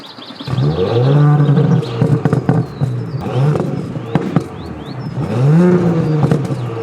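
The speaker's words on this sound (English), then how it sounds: "Ignition on. Let's do that now, and then it should start in with a bit more noise." An Audi S4 Avant B9 with a 3-litre single-turbo V6, set to dynamic mode, fires up with a loud rising flare that settles into a throbbing idle, then blips again with a second rev swell near the end.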